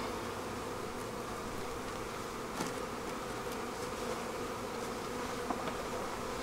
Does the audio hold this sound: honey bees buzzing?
yes